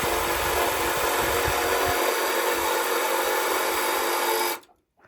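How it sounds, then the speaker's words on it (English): A jigsaw cuts a 2x6 wooden board with a steady, loud buzzing rasp for several seconds, then stops abruptly. "Gotta love a jigsaw."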